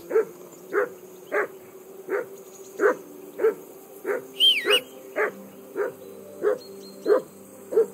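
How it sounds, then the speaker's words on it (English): A dog barks in Kingdom Come: Deliverance II, sounding as a steady run of about a dozen evenly spaced, mid-loud barks with a brief higher yelp partway through. "that barking's driving me nuts. Can you get your dog to shut its beak?"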